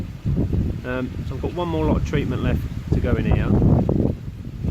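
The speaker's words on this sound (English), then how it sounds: "World's windiest day today, so excuse the noise." Wind blows hard into the microphone outdoors, a loud low rumbling buffet under someone talking throughout.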